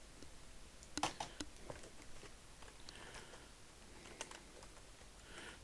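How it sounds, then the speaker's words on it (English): Typing on a computer keyboard, a faint, irregular patter of soft key clicks with a few sharper taps, close and alone. "I am going to type rather than write."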